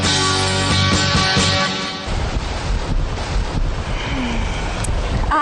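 Ocean waves surge and wash, a loud rushing roar of surf mixed with wind buffeting the microphone, easing slightly partway through.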